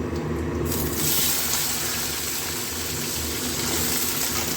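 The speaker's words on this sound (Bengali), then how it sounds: "এবার পেঁপেগুলো সব দিয়ে দেবো" Chunks of papaya dropped into oil already tempered with cumin and green chili, a loud continuous frying hiss that swells early and then settles into a steady close sizzle, with no talking.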